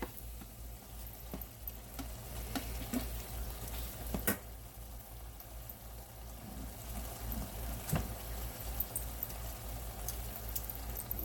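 Rice being added to a frying pan with ginger and soy sauce, a steady close sizzle and fry with scattered clicks and scrapes of stirring, no talk.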